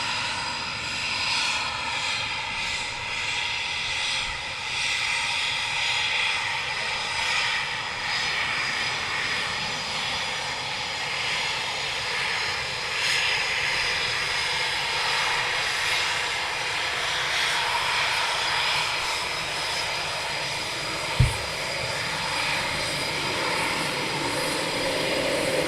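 A military jet at RAF Coningsby takes off on full afterburner, heard as a steady, broad roar at a distance that holds for the whole stretch, with one short knock near the end.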